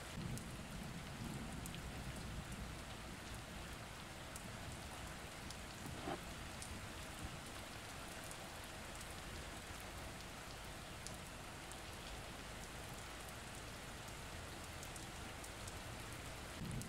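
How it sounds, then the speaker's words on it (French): Steady rain falls continuously in a dense, even hiss, faint and distant, with no voices over it. "Cette pluie, au rythme doux et régulier, vient vous bercer dans la douceur de sa tombée."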